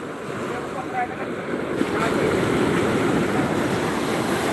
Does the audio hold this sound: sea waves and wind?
yes